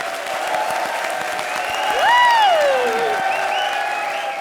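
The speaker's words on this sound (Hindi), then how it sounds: "चलो सोहेल अंकल ताली ठोको।" Studio audience applauding on a Hindi television comedy show: a steady wash of clapping across the clip that swells slightly midway, with a high rising and falling whistle-like tone over it.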